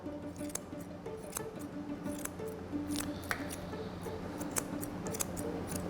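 Quick, crisp snips of grooming scissors cutting a dog's coat repeat at an irregular pace, close and fairly quiet, against a low steady background hum.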